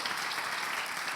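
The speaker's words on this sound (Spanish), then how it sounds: "Denle un fuerte aplauso al Rey," A church congregation gives sustained, dense applause that stays even and full throughout.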